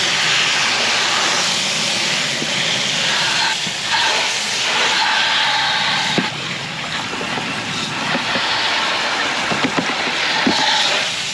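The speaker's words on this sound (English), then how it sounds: "We're going to spray the unit, the evaporator inside" Water spraying onto the evaporator inside a window/sleeve air conditioning unit during cleaning, a loud continuous hissing spray with shifting intensity and occasional splashy bursts as the stream moves across the coils.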